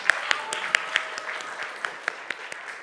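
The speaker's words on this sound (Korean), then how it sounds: "41개에게 박수 한번 보내주세요." A church young-adult service congregation claps for a group of newcomers called forward, with scattered, sparse individual claps rather than a full ovation, fairly quiet and distant in a large room.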